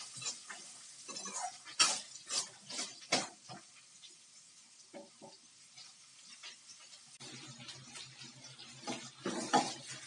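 Chopped onion sautéing in a pan for aloe vera chutney, a close, steady frying hiss broken by repeated scrapes and knocks of a spoon stirring through the pan, with no voices.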